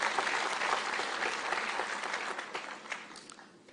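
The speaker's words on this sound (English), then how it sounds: "Another round of applause to the President." Audience applause for the President at a university graduation ceremony in Nairobi, a burst of crowd clapping that gradually thins and fades over a few seconds.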